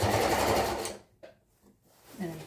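Sewing machine stitching baggy pants, a loud steady run of rapid needle strokes for about a second, then it stops and only faint handling noises remain.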